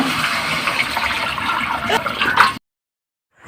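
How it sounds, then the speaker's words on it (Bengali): Water gushes steadily into a pan of sautéed soybean curry for a couple of seconds, a loud close rushing pour that stops abruptly into silence. "কষা হয়ে গেছে, জল দিয়ে দিলাম"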